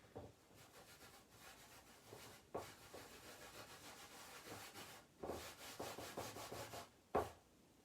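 Chalk paste is rubbed into a stencil with steady, soft scraping strokes in a rhythmic back-and-forth pattern, close and fairly quiet, with a few sharper swipes near the end.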